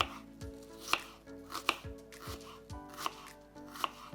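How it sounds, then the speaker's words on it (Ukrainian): Knife chopping an onion into cubes on a cutting board, a series of sharp, irregular taps up close, with quiet pauses between cuts and no voices. "Одну цибулину нарізаємо кубиками."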